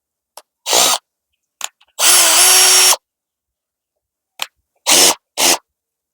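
An Ingco brushless cordless drill whirring in short loud close bursts, a few brief blips and a longer steady run of about a second, separated by silences.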